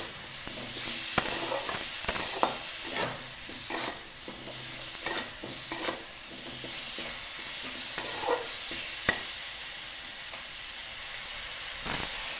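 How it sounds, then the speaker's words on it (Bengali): Cauliflower curry is sautéed in a pan, a continuous close sizzle broken by repeated scraping knocks of a spatula at irregular intervals. "এবার আমি ভালো করে কষিয়ে নিচ্ছি।"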